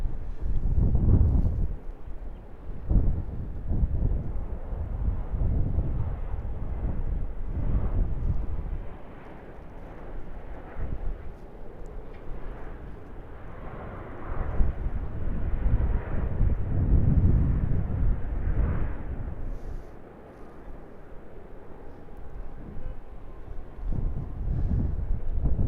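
A Qantas airliner lands at Sydney Airport, its broad engine rumble rising, swelling and fading over about half a minute while steady wind buffets the microphone.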